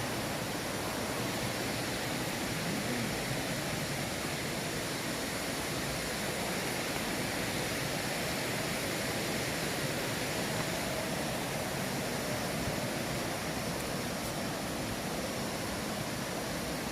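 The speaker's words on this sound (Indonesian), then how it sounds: "Air terjun Curug." A constant, even rush of falling water from Jagir waterfall in Banyuwangi carries on without a break, moderately loud and unchanging throughout.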